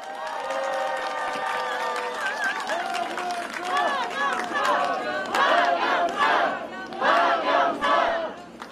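A crowd of young mothers at a Korean political campaign speech cheers and shouts loudly in repeated bursts of rising voices. The noise swells strongly toward the end.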